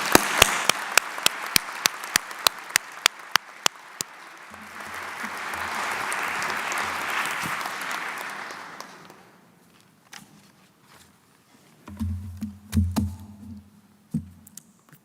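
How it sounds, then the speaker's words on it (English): Audience applause at a faculty honors convocation, a broad wash of clapping that swells and fades over several seconds. Sharp clicks come before it, and low speech-like sounds follow after. "Please give this group another big round of applause."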